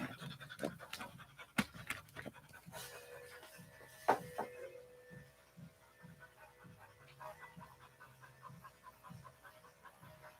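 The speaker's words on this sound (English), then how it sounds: "She came in and she was excited, and so she's been panting." An English Springer Spaniel pants in a steady, rhythmic series of quick breaths close by during a grooming session, with a few sharp clicks and bumps over the top and no talking.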